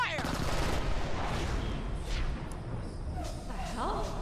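Gunfire in the video game Borderlands: The Pre-Sequel, a dense, loud stretch of shots and blasts running throughout, with voices in the mix.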